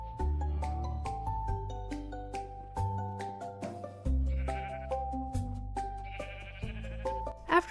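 Minecraft sheep give several loud, near bleats over a steady synthesized music bed, with soft clicks and game effects in between.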